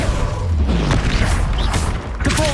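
Incendio fire spell cast in Hogwarts Legacy on PS5, a loud booming burst with a mechanical crackle lasting a couple of seconds amid dense game effects and music.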